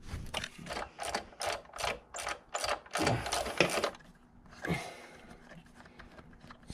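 A ratchet wrench clicks in a rapid, regular run of sharp ticks while removing a nut from a truck engine, then pauses and gives a few looser clicks, heard up close.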